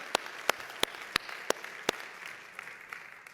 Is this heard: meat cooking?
no